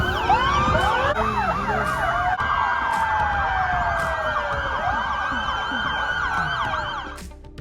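Fire brigade, police and ambulance vehicles parade in a line before a small car race, several wailing sirens overlapping loudly and continuously, fading slightly at the end.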